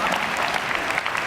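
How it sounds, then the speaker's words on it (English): An audience at a motivational keynote talk gives a steady round of applause, a dense wash of many hands clapping throughout the brief moment. "And Ryan, I want you to sit down and give Ryan a big round of applause"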